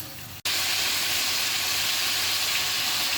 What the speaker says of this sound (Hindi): अब इसका चिकन का गोल्डन कलर होने तक हम इसको 5 से 7 मिनट फ्राई करेंगे।